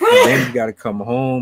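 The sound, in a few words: sneeze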